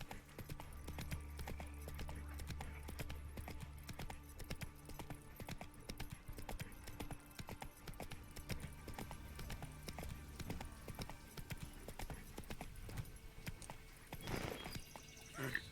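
Hooves of the horse Roach in The Witcher 3 game, a fast rhythmic clip-clop of galloping running steadily under game music, rising to a louder burst near the end.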